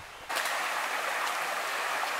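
Creek water flowing across a hiking trail in the northern Smoky Mountains, a steady broadband rush that swells in abruptly after a brief quieter moment and then holds constant, close and fairly loud.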